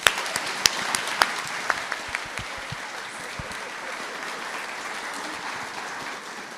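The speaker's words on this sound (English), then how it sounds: "let's give them a big round of applause" Audience applause at an evening talk, starting with a few sharp, distinct claps that quickly merge into a steady, moderately loud wash of clapping that carries on evenly to the end.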